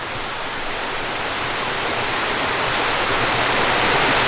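Water rushes through open paddles into a canal lock, a loud, continuous broadband roar that swells slightly toward the end, heard alone.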